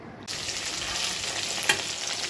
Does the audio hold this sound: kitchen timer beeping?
no